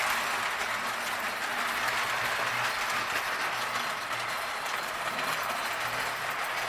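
An O-27 three-rail toy train runs on a home layout, giving a steady, dense rolling rattle and hum that stays constant throughout with no talk.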